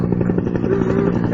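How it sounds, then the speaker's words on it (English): A helicopter flies overhead, a loud low rotor thrum with rapid rhythmic chopping pulses and engine drone, close and steady for the whole moment with no other sounds breaking through. "The fucking helicopter."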